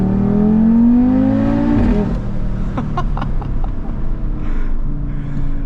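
An Audi RS3's engine revs hard in second gear, the pitch climbing before dropping sharply at the shift to third, then settling into a lower steady drone, loud and close from inside the car.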